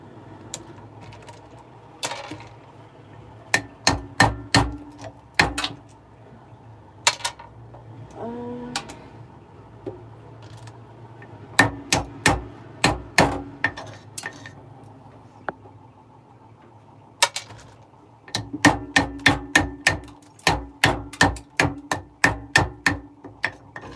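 A knife chops food short on a board during long Nigerian home cooking, landing in quick bursts of sharp, evenly spaced knocks separated by brief pauses, close and fairly loud with no talking.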